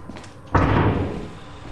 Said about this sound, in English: That's the door closed on us.